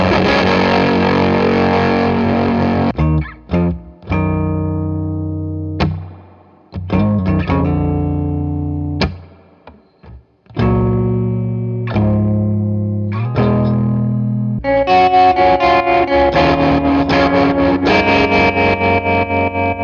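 An electric guitar plays through a Total Gravy Guitarworks Hermano tube amp, loud distorted single notes and chords ringing out and decaying between gaps, then a stretch of rapid, even strumming near the end.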